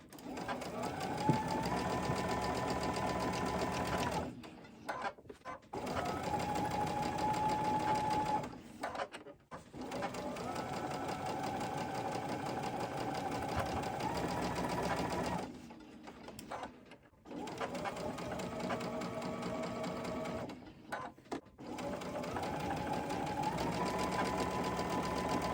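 Sewing machine stitching a spooky-themed quilt block, running in steady bursts of rapid mechanical whirring with brief pauses between seams, close and fairly loud.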